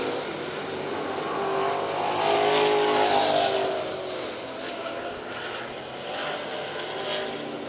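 Race cars roaring down the backstretch into turn 3 at Virginia Motor Speedway, engines swelling and fading as the pack passes at a distance, steady loud motor drone throughout.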